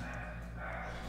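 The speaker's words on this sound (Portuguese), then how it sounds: "Aí ela late alto, como se as vacas parassem de passar por causa dela" A dog in The Sims 3 barks at cows passing across the street, its short barks and yips sounding faintly over a steady background hum of game ambience.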